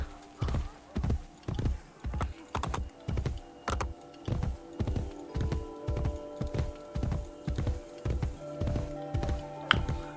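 A horse's hooves clip-clop in a steady, even rhythm in the video game Assassin's Creed Brotherhood, each close, thudding step distinct against soft background music and ambience.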